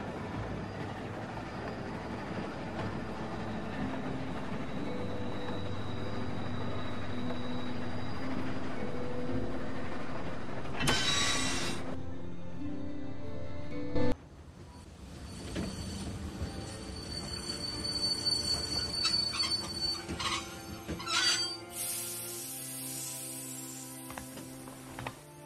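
A train in the video game The Walking Dead rumbles steadily at low volume. Metallic squeals and screeching wheel noise rise in the second half as the cars grind along the rails. No one speaks.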